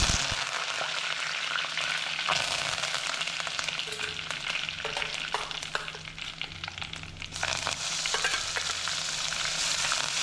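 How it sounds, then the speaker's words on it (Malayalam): Mustard seeds, fenugreek, dried chillies and curry leaves splutter in hot oil while tempering for a fish pickle, making a steady, dense crackling sizzle that carries on loud and close for the whole stretch. "നമ്മൾ കടുകും ഉലുവയും അതുപോലെ വറ്റൽമുളകും പിന്നെ നമ്മൾ കുറച്ച് കറിവേപ്പിലയും പൊട്ടിക്കുന്നുണ്ട്"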